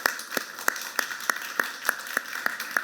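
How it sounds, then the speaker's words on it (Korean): Church congregation applauding in praise to God after worship singing, heard as a slow, steady series of sharp, evenly spaced claps, about ten over a few seconds, fairly close and moderately loud. "우리 하나님께 박수와 우리 격려를 한번 드립시다"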